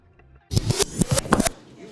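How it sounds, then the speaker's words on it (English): A knife chops boiled eggs quickly on a cutting board, about half a dozen sharp, close strokes in a burst lasting roughly a second, with quiet before and after. "And now I'm chopping up my eggs"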